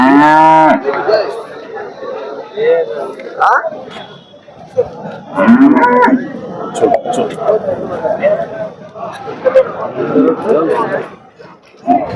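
A Holstein Friesian or Jersey cow lets out a loud, drawn-out moo at the start at a Sunday cattle market in Chintamani, then overlapping voices and crowd chatter carry on around it.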